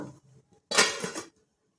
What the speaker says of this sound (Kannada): ತಟ್ಟೆ ಮುಚ್ಚೋಣ